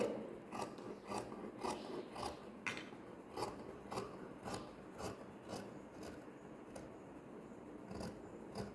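Scissors snip steadily through blouse fabric for a saree, a quiet, close series of rhythmic crisp cuts about twice a second, with no talking.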